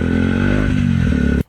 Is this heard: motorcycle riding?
yes